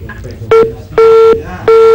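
A telephone line tone sounds after a caller hangs up during a live call-in broadcast. Three loud, steady electronic beeps are evenly spaced, and faint studio background sits between them.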